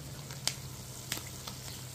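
Nopales, sliced cactus paddles, fry and brown in a covered pan with a faint, steady sizzle broken by a few sharp pops and spatters.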